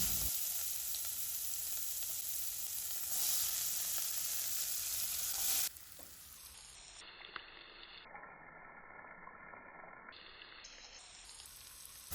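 Chopped onion, whole cumin, bay leaf, cardamom, cinnamon and clove fry in hot oil for egg curry, giving a steady close sizzle that drops quieter about halfway through and goes on as a thinner, muffled hiss with an occasional small crackle.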